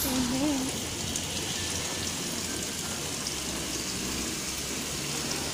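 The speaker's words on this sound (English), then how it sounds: "It's a really rainy day today" Steady rain falls on a rainy day, a continuous even hiss of drops throughout, with a brief voice-like sound at the very start.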